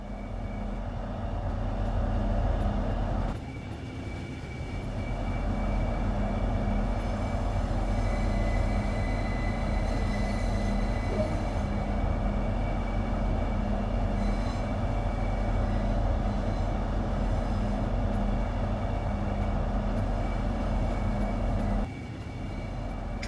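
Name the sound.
Class 395 Javelin Hitachi train running, Train Sim World 2 video game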